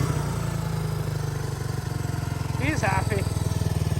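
A dirt bike engine idles and revs steadily close by, with a continuous low drone; someone speaks briefly over it.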